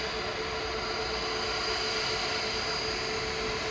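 An easyJet Airbus A320neo departs Manchester Airport for Belfast, a loud steady broadband jet roar with a faint whining tone, sustained for the full few seconds, heard at a distance without talk.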